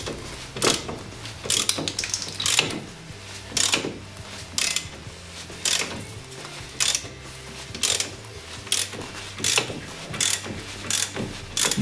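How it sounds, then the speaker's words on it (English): Repeated ratcheting clicks from a wrench turning a tough 18 mm Loctite-secured brake bolt on a Smart 453 during a brake pad and disc change, in regular bursts of clicking at close range with no talk. "And to get this job finished, I will use the wrench. The bolt, it's an 18 millimeters."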